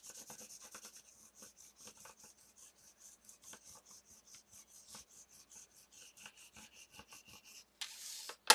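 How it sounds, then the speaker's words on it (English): A paper die cut from a Sizzix Wildflower die is burnished down by rubbing. Quick, rhythmic scratchy strokes repeat up close at low volume with no talking, ending in a slightly louder burst of rubbing. "I gave it a good burnish"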